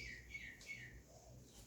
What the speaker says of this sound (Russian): Сегодня у нас птички поют, так классно.